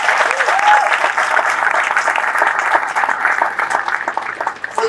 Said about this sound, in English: Thanks to our great garrison team. Let's give them a round of applause.